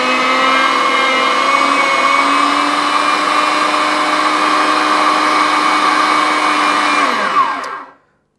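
An Anko 300W electric meat mincer runs empty with a loud, steady whining motor hum, close up, for several seconds before spinning down abruptly to silence.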